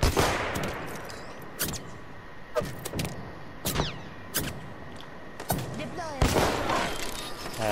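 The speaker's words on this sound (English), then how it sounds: "If I can land this Kraber shot." Kraber sniper rifle fire and other gunshots in the battle royale video game Apex Legends, several sharp loud cracks spaced about a second apart with ringing tails, over game ambience and a speaking voice.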